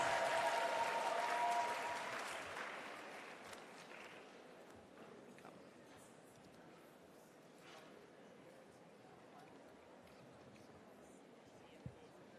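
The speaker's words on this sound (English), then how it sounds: "Give them a rousing round of applause." Audience applause at a teachers' engagement session for saxophone and flute performers, strongest at the start and then fading to a faint scatter of claps and room murmur.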